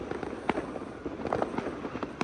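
Fireworks and firecrackers going off for Diwali celebrated by Tamils in Malaysia, a dense string of sharp pops and crackles at varying distances, fairly loud, with no talking.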